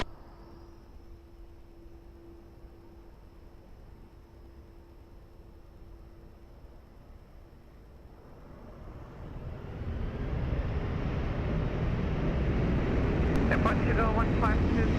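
A Ryanair airliner takes off from runway 20 at Lisbon Airport. Low, distant engine noise swells into a loud, broad roar over the last several seconds, with radio voices talking at the start.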